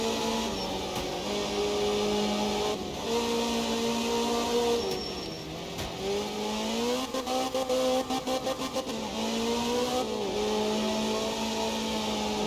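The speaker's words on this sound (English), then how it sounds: "Maybe should have left it in third gear there, revving off the limiter in second." Ford and Ferrari GT3 race cars in the video game Assetto Corsa Competizione rev hard together, their loud engine notes climbing and dropping through gear shifts, with a stuttering burst off the rev limiter partway through.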